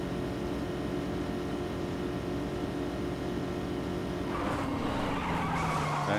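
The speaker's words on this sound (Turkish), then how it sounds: "Bu araba çok hızlı ama dönmüyor sadece." A fast car is driven in the PUBG video game, its engine a steady, moderately loud drone that shifts in pitch near the end as the car turns or accelerates, with no talk over it.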